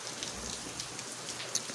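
Steady hiss of rain falling outdoors, even and continuous, with a few sharper drips standing out near the end and no voices.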